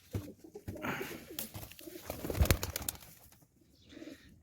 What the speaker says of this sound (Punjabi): ਇਹ ਹੈ ਜੀ ਸਰਾਜੀ ਕਬੂਤਰ,